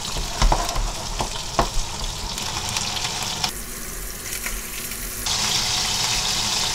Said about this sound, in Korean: 이렇게 바짝 튀기는구나.